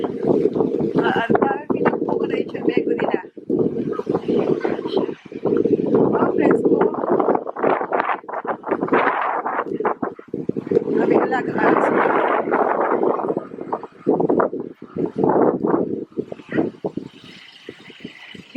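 Gusty wind on a farm buffets the microphone with heavy rumbling roars, broken by short lulls, while people talk now and then.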